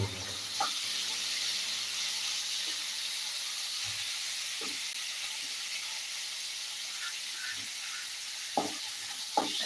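Prawns roast in a pan for a prawn roast, giving a steady, soft, hissing sizzle with a few light taps of a utensil scattered through it.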